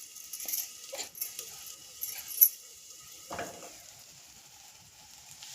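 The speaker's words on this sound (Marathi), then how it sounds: "आपल्या भाजी करपू द्यायची नाही खाली, सारखं हलवत राहायचं आहे." Capsicum and potato sabzi stirred in a frying pan, with a soft sizzle, intermittent scraping of the spatula and a sharp clink midway, fairly quiet and close.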